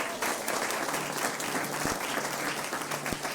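Church congregation applauding to acclaim the Lord at a Christmas service, a steady, dense wash of clapping from a full crowd that holds evenly throughout with no speech.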